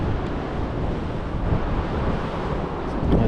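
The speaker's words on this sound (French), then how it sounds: "Il y a trop de vent, c'est trop de vent." Strong gusty mountain wind buffets the microphone in heavy, roaring gusts, a dense rumbling rush with no pauses.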